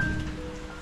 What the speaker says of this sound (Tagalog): Lakas ng ulan mga kasparky.